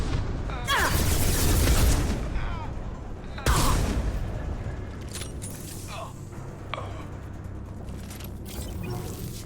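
Gunshots in the game Mass Effect 2: two heavy, booming blasts a couple of seconds apart, each with a decaying rumble, followed by quieter mechanical clanks and movement, with voices heard faintly.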